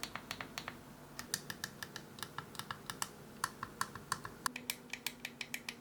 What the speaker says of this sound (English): The buttons are nice and clicky, but I would say they're a bit loud.